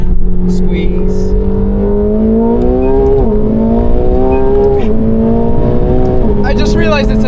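A McLaren 750S sports car drives hard on a race track, its engine note climbing through rising revs with several sharp dips at gear shifts, loud and close, while an instructor talks over it.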